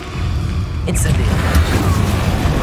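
Incendio fire spell cast in Hogwarts Legacy on PS5, heard as a sharp flaring burst about a third of the way in that swells into a sustained, loud booming roar with a second surge near the middle.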